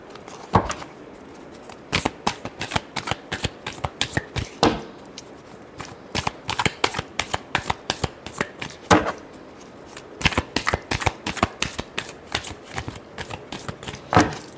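A deck of tarot cards is shuffled over and over, giving quick riffling bursts of crisp card slaps in repeated rhythmic runs, close and clear with no talking.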